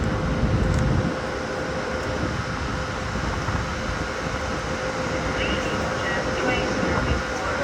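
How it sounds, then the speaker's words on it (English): Hungarian State Railways passenger train at Budapest-Kelenfold station, a steady rumbling rail roar with a faint tonal whine, continuous and moderately loud, with some brief clanks near the start. "We're at the Hungarian State Railways Budapest-Kelenfold, capital Kelenfold passenger station."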